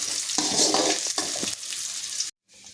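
Tempering spices fry and sizzle in a pan for a broad bean stir-fry, a steady hiss broken by stirring scrapes, cutting out briefly before resuming more quietly.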